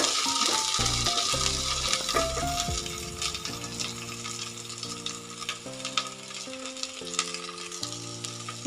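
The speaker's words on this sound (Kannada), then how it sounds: "ನಾನು ತೊಗೊಂಡಿರೋಂಥ 2 ಈರುಳ್ಳಿಯನ್ನು ಸಹ ಸೇರಿಸ್ತಾ ಇದ್ದೀನಿ. ಸ್ವಲ್ಪ ಈರುಳ್ಳಿ ಫ್ರೈ ಆಗಿ" Two onions fry in a pan for bottle gourd sambar, giving a continuous sizzle and stirring noise beneath prominent background music throughout.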